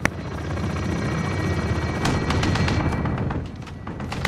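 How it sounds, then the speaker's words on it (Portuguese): Chopper gunner helicopter firing in a Call of Duty: Modern Warfare multiplayer match: a steady rotor drone with dense, rapid bursts of gunfire and booming impacts, loud and continuous throughout. "Oh, alguém com o chopper gun."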